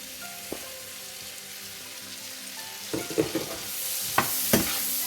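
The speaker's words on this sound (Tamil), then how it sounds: "இப்போ நறுக்கி வச்ச வெங்காயம் போட்டுக்கோங்க." Chopped onion and garlic sauté in a hot pan with a steady low sizzle, broken near the end by a few sharp clinks and scrapes of stirring. No one speaks.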